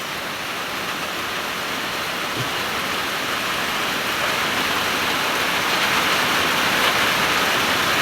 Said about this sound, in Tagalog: Grabe ka kusog sa ulan